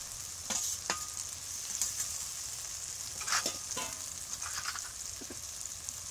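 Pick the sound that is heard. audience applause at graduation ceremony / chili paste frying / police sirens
chili paste frying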